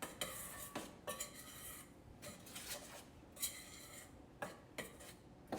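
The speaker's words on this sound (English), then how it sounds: "All right, we're gonna stir that all together." Utensils stirring ingredients together in a bowl during home baking, heard as a series of scraping, clinking strokes with a short burst roughly every second, fairly quiet and with no talking.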